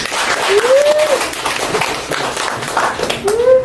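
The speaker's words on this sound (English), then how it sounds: "Let's bring our hands together and applaud." A crowd claps at a celebratory gathering, with a continuous wash of hands punctuated by occasional whistles and cheers, fairly loud and close.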